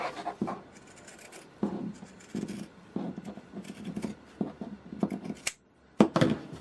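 Scissors snip through a fabric circle for a tree skirt, a series of close, crisp crunching cuts in uneven bursts with short pauses between them.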